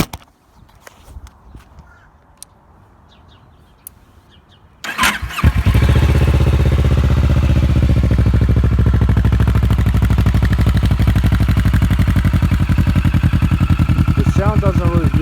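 A Kawasaki Ninja 650R motorcycle engine fires up after a few quiet seconds, then settles into a loud, steady, throbbing exhaust idle that continues to the end.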